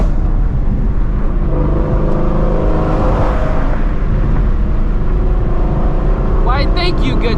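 A Shelby GT350 Mustang engine drones steadily and loudly from inside the cabin while driving, with a continuous low rumble and rising whine, and people talk over it.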